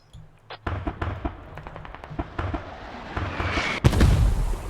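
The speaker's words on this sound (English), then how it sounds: "Mortar strikes come in for smoke coverage to provide the flanking maneuver for AK guys coming in on the southwest surface line." Mortar strikes land in the military shooter Squad during a competitive league match, a rapid series of sharp booming impacts and cracks scattered across the clip, ending in a louder, heavier blast with rumbling tail.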